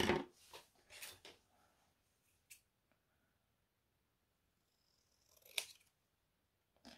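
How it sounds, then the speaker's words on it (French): A few crisp snips of scissors through paper, clustered at the start with a couple more later, close and separated by quiet pauses. "Je prends les grands ciseaux."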